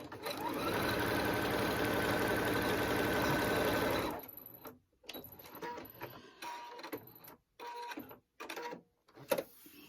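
A sewing machine stitches a diagonal line across quilt binding, running in a steady close whir for about four seconds, then stopping, followed by short handling clicks and bumps with gaps of quiet.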